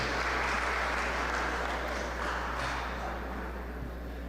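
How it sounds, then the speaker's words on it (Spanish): Steady, dense applause from a church congregation welcoming a pastor to speak, a continuous wash of clapping that holds evenly and eases slightly toward the end over a low hum. "Vamos a recibirle con un fuerte aplauso."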